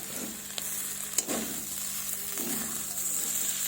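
A spatula scrapes sticking winter vegetables off the bottom of a frying pan, with a few short scraping strokes over a steady close sizzle of hot oil.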